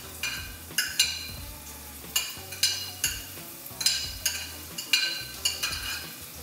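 Onion fries in hot spiced oil for a tarka and is stirred at a steady pace. Soft sizzling runs underneath about a dozen light, regular scrapes and taps of a spoon against the pan.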